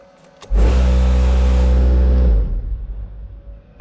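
Salt spreader vibrator running on a truck, rising suddenly into a loud, steady mechanical drone with a deep engine-like rumble that holds for about two seconds, then cuts back to a quieter idling hum.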